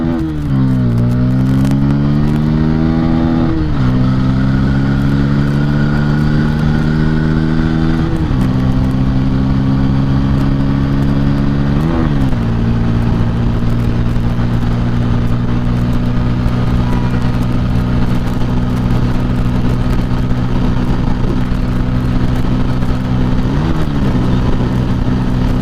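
A Bajaj Pulsar P150 150 cc motorcycle engine on a speed test ride, loud and close, revving up through several gear changes with pitch dips between shifts, then holding a steady high drone with wind noise.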